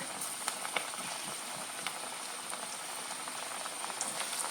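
Onion fritters frying in hot oil for a teatime snack, a steady dense crackling hiss with tiny pops scattered throughout, close and continuous with no talking.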